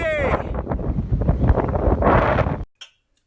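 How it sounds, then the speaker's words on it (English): Loud, blustery wind buffeting a microphone with a continuous rumbling roar that cuts off abruptly near the end. "It's a little bit windy!"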